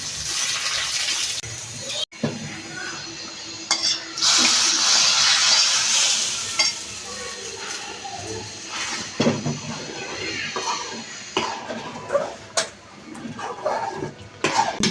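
Onion and garlic frying in oil for dal bhuna with dried chilli, black and green cardamom, clove and bay leaf, giving a steady close sizzle and hiss with intermittent scraping and clinks of stirring.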